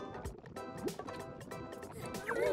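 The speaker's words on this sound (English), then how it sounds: "I just splashed." Cartoonish splashing of a character into water in the video game Snipperclips, bubbly gurgling liquid sounds with drips over a couple of seconds, fairly close and moderately loud.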